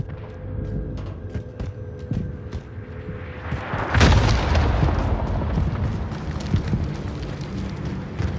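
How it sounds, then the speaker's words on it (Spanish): Bombardment in the Warzone video game: scattered distant gunshots give way to a heavy explosion that bursts loud and then rumbles on as a sustained booming roar. "Bombardeo en camino."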